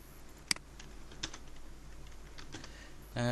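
A few sparse keystrokes tap on a computer keyboard while HTML is being written, soft and close over a faint steady hum, ending with a brief louder burst.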